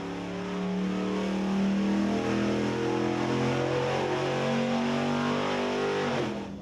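A test engine on a dyno revved hard to the red line, a loud, sustained, rising mechanical drone with strong harmonic whine, holding near peak before easing off at the end.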